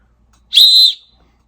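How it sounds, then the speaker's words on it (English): A single loud, shrill whistle from a survival whistle kept in a get-home bag, one sustained blast of about half a second, close and alone in silence. "So we'll just start with a whistle."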